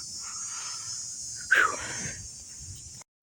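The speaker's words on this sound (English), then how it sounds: "Cicadas." Cicadas keep up a steady, high buzzing drone in the background during a severe thunderstorm, with a brief louder breathy exhale near the middle.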